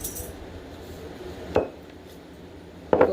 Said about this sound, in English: take this spoon and smooth it down in there